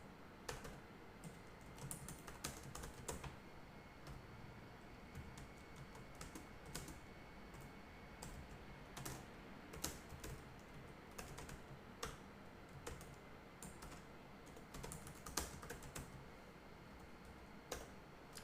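Typing on a computer keyboard during a Python programming session: a quiet, continuous run of light key clicks with irregular rhythm and no talking, heard faintly throughout.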